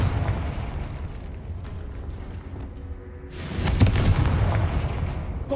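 Spell explosions in the Hogwarts Legacy video game, with booming blasts over continuous combat rumble, rising to a louder burst of crackling impacts partway through.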